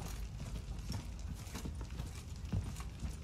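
Horse hooves clip-clopping in the video game Witcher 3, a steady rhythmic trot of repeated hoof strikes throughout, close and even over a low rumbling backdrop.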